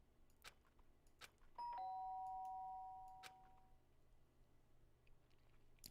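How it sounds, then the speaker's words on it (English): A doorbell rings in the Danganronpa: Trigger Happy Havoc video game, giving one clear, loud two-tone chime that rings out and fades over about two seconds above a quiet, steady background. "The sharp sound of the doorbell pierced my sleepy haze and pulled me back to the real world."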